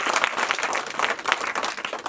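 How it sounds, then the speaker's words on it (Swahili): Applause from a gathered crowd at a welcoming ceremony celebrating a newly finished homestead, dense overlapping clapping that stays loud and steady for about two seconds. "Tumpigie makofi."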